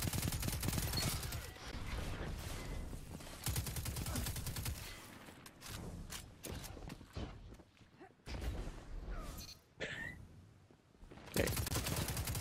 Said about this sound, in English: has he got two SMGs?